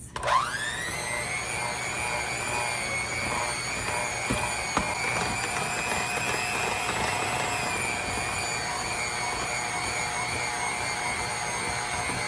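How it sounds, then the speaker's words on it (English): An electric mixer beating Kentucky butter cake batter with buttermilk, starting up with a rising spin-up and then running as a steady, loud, high-pitched motor whir with no break. "And we're going to mix this up for 3 minutes straight."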